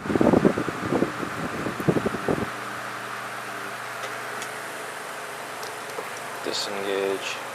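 An antique GE Vortalex electric fan runs with its oscillator engaged, a steady low motor hum with faint ticking, after brief talk at the start.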